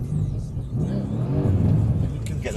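A Mercedes-AMG 63 engine revs up, a deep rumbling roar that swells and holds near and loud, with people talking over it.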